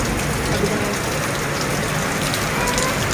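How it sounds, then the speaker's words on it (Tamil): Heavy summer rain pours down during a thunderstorm, a loud, dense, unbroken roar of drops striking surfaces, close and constant throughout. "சரியான மழை பெஞ்சிட்டு இருக்கு"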